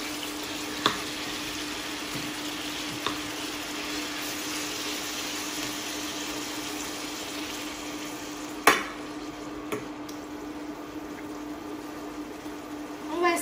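Minced beef frying in a pan gives a faint, steady sizzle with a low constant hum, broken by a few sharp scrapes and taps of a utensil stirring.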